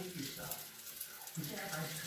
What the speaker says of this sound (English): There it goes into the frying pan.